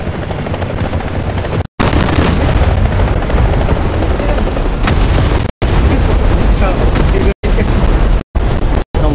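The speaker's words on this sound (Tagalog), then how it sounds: "Uy, may helicopter sa likod." Helicopter in War Thunder: a loud, dense rotor roar fills the mix, with booming explosions and gunfire layered over it and brief cuts to silence, while players talk over the action.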